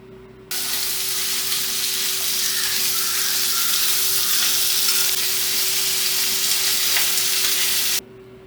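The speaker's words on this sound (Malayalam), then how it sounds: "അത് രണ്ടും ചേർത്ത് നല്ലപോലെ വഴറ്റിയെടുക്കാം." Shallots and green chillies sauté in coconut oil in a pan, giving a loud, continuous, close sizzle that starts abruptly and stops abruptly, with no voices over it.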